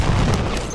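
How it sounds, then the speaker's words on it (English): Grenades go off in an online multiplayer shooter game, a dense, continuous burst of booming blasts and gunfire-like crackle filling the whole short moment at close, loud level with no talk. "Oh, grenades everywhere."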